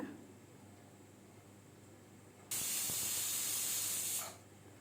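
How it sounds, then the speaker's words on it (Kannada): A pressure cooker holding country-chicken mint pulao vents through its whistle: after a quiet stretch, a sudden loud, steady hiss of escaping steam runs for about two seconds, then tapers off, close and alone. "ಲಿಡಲ್ಲಿ ಮುಚ್ಚಳ ಮುಚ್ಚಿ ಒಂದು ವಿಸಿಲ್ ಕೂಗ್ಸೋಣ"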